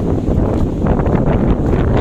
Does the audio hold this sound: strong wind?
yes